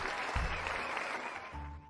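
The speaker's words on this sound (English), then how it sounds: "Let's get a round of applause for Cucurucho Land" Audience applause at a live theme-park unveiling show, a steady wash of clapping throughout with a couple of low thumps and a faint voice underneath.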